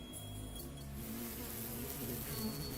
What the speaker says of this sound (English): a single bee hovering in the air.